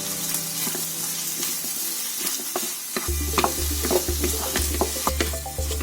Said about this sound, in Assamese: অলপমান আলুখিনি সৰু কৰি ভাজি দিছো